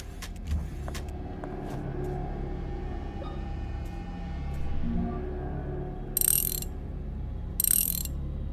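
A wrench being adjusted in the survival horror game Tormented Souls gives a steady mechanical ratcheting, with two sharper bright clanks near the end. No one speaks.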